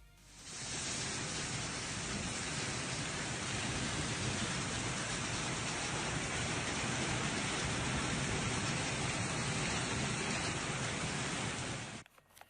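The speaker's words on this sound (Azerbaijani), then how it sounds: "Hazırda isə Şahbuz rayonunun Küşü kəndinə dolu yağır." Hail falls on Küşü village in Şahbuz district, a dense, continuous hiss of pelting ice that fades in and cuts off, steady and moderately loud with no voices.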